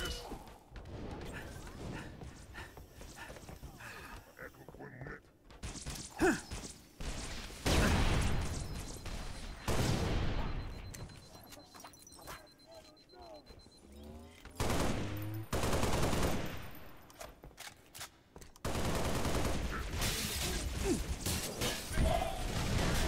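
Bursts of automatic gunfire from the Halo video game, arriving in dense volleys with brief lulls and whooshing effects in between, loud and close.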